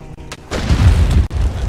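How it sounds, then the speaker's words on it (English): A bomb goes off in the game Conan Exiles as a single loud, deep boom that swells after a few light clicks and rumbles on for about a second before fading into a lower roar. "bomb going on."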